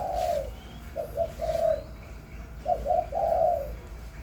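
A large hybrid dove coos in repeated soft phrases, several low rounded calls in two groups, clear and close against a quiet background.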